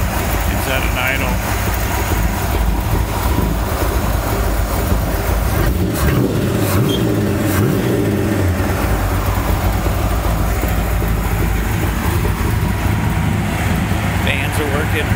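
A 1951 Dodge Power Wagon B-3PW engine idling, a steady low rumble running throughout, with a person talking over it.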